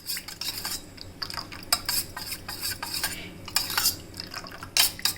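A spoon scrapes and clinks against a bowl in quick irregular strokes while mixing eggless honey cake batter, each stroke a bright, close tap or scrape with short gaps between.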